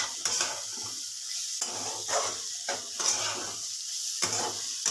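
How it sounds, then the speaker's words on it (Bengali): Bitter gourd, potato and onion sizzle in a frying pan for a chorchori, a steady close hiss broken by repeated scraping stirs of a spatula against the pan, with no talking. "এখন তৈরি হচ্ছে উচ্ছে আলু আর পেঁয়াজ দিয়ে একটা ভাজা ভাজা চচ্চড়ি টাইপের"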